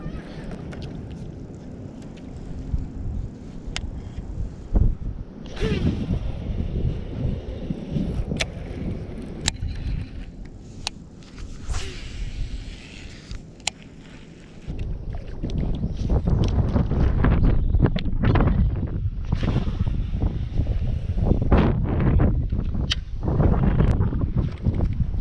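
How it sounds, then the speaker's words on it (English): Gusty wind buffets a microphone on a fishing boat, with rushing roar that swells louder in the second half, mixed with occasional knocks and water noise. "At least now we have the wind at our back"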